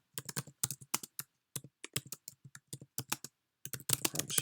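Typing on a computer keyboard while writing a Python program, with quick bursts of close, crisp key clicks in an uneven rhythm, brief pauses between runs, and a denser flurry at the end.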